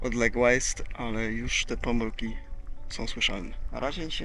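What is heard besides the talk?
No distinct noise like a dog, phone or traffic.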